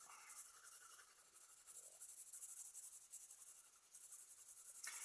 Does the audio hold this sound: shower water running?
no